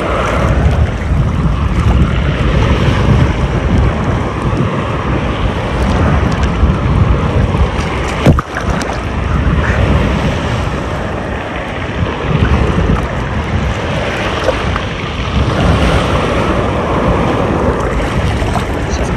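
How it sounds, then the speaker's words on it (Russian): Large sea waves break on the shore at Lazarevskoye, making a loud, continuous roar of surf and churning water mixed with heavy wind buffeting, with no pause across the whole stretch. "Большая волна."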